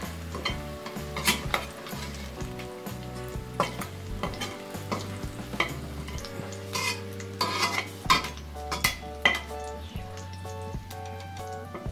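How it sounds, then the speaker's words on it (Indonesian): Steady sizzling of oil frying in a pan while preparing a spicy fried-egg dish, with frequent clinks and scrapes of a utensil stirring against the metal. "kita goreng sampai sangat matang aja"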